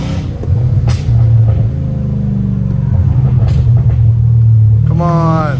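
A straight-piped Dodge Hellcat Redeye engine holds a loud, deep, steady idle rumble that swells into revs near the start and again near the end, climbing in pitch on the final blip, with brief voices in the background.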